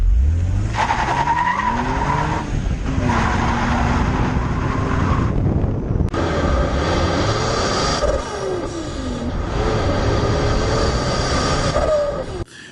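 Twin-turbo 1986 Mercedes 300E Zender with cheap rear tires spinning its wheels, tires squealing loudly and steadily in long wavering shrieks over a revving engine, close and continuous for the whole stretch.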